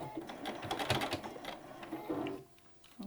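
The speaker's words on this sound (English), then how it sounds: "You also want to back stitch over that pleat" Sewing machine back stitching over a pleat on a fabric face mask, a continuous close mechanical whirr with a rapid needle rhythm that slows and briefly stops near the end.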